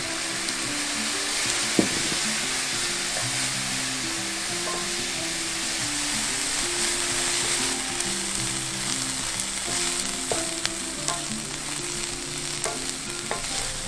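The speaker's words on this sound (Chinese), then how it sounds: "倒入少许的酱油拌炒" Vegetarian dumpling filling stir-fried in a pan with a splash of soy sauce, giving a loud continuous sizzle with frequent spatula scrapes and clinks throughout, no voices.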